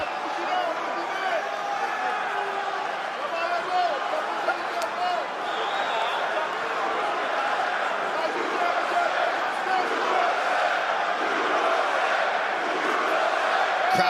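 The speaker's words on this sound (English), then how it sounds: "Crowd getting behind the American early on." A UFC arena crowd roars continuously for Michael Chandler during his fight with Charles Oliveira, a dense distant wash of cheering and shouting that holds steady throughout.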